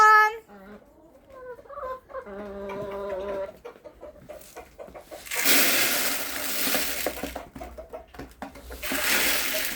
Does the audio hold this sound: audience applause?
no